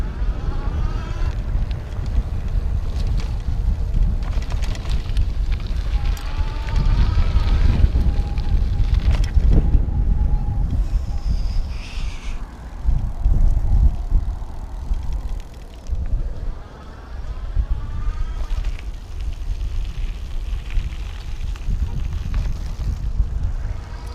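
A Magnum Premium folding electric bike rides over bumpy ground, with a rough, continuous rumble of wind and rattle that dips for a moment and returns, while someone talks over it.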